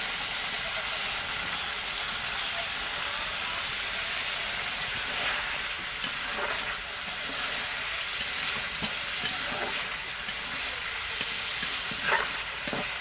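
Magur fish curry with garam masala paste cooking in a pan, a constant close sizzle with scattered scraping and clinking stir strokes, most noticeable in the second half, with no one speaking.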